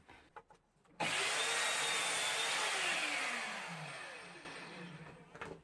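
An Evolution R210CMS mitre saw with a brand-new blade bursts up to full speed and cuts through wood. It gives a loud, sustained whine that dips as the blade bites, then spins down near the end.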